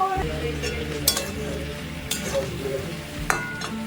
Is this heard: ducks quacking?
no